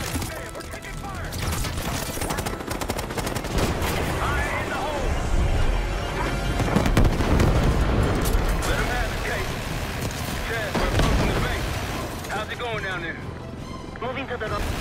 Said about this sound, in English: Hey, we're taking fire!